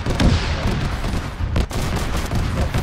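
Sustained gunfire in a Warhammer 40k-style shooter where Guardsmen fight Chaos forces, a dense continuous barrage of overlapping shots with a couple of heavier bursts, loud and close throughout.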